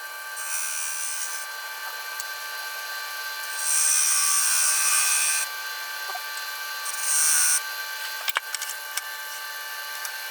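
A tool scrapes a wooden Christmas gift piece turning on a lathe over a steady motor whine, with two longer hissing scrape passes and a few short ticks, close and moderately loud.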